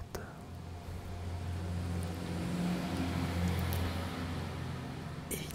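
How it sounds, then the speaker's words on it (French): A truck passes outside behind the room, a low droning rumble that swells through the middle and eases off, muffled and moderately loud against faint background noise. "quand un camion Ben passe derrière, on entend moins bien"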